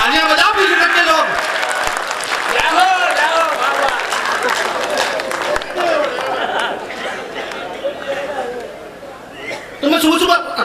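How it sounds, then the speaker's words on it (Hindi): Audience clapping and crowd chatter at a Hindi stand-up comedy show, mixed under a loud comedian's voice and scattered laughter, with a brief burst of applause toward the end. "तालियां बजाओ पीछे के लोग।"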